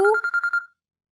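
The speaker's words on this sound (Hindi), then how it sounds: "अब्बू आपका फोन आ रहा है।" A short burst of electronic phone ringing, a quick warbling pulse repeated several times, loud and close, then silence.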